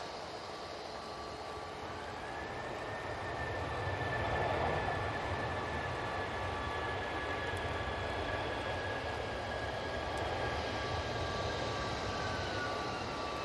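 An Aer Lingus airliner landing at Manchester Airport with thrust reversers engaged, a long broad roar that swells and holds steady from a moderate distance.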